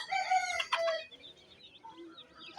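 A desi rooster on a small backyard chicken farm lets out one loud, near crow, followed by quieter scattered clucks from the hens.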